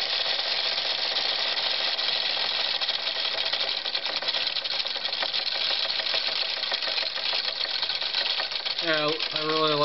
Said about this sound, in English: I really like this steam engine a lot better